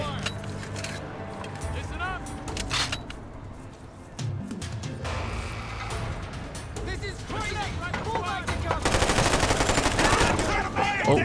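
Gunfire in the Gates of Hell strategy game with a Mafia 2 mod, bursts of rifle and machine-gun shots crackling repeatedly, heaviest near the end, mixed with game sound and voices talking throughout.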